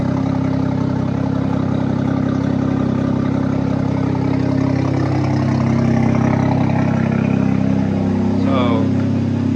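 A turbocharged car engine idles loudly up close with a steady low rumble, and a person talks over it partway through.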